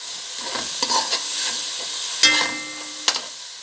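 Minced beef frying in a pan while being stirred, a soft continuous sizzle broken by a few scraping strokes of the utensil, close and moderately loud.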